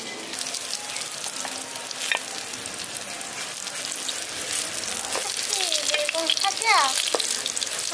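Brinjal (eggplant) slices fry in hot oil with a steady crackling sizzle, joined by scraping stirring sounds and a few faint clinks, continuous and close throughout.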